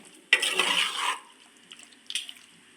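Tapioca and plantain aviyal stirred in a pot, a close wet scraping swirl lasting under a second followed by quieter clinks and a short second stir, with no talking.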